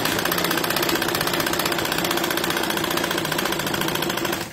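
A sewing machine runs continuously and close, stitching a double seam on a salwar with a fast, even mechanical whirr until it stops at the very end.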